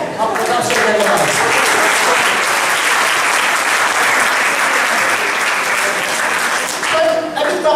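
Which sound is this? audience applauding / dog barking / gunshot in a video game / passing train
audience applauding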